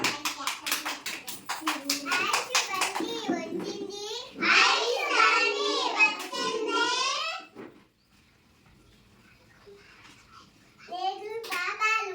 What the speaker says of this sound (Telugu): Okay, done. నెక్స్ట్ ప్రీతిశ్రీ. క్లాప్స్ ఇచ్చేయండి.